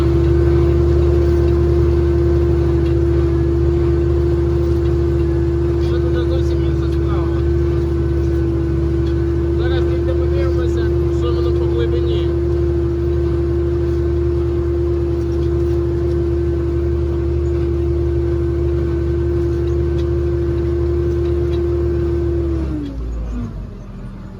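Tractor engine pulling a KPG 4.5 cultivator, starting off in second gear: a loud, steady droning hum held for about 22 seconds before dropping away at the end, no voices.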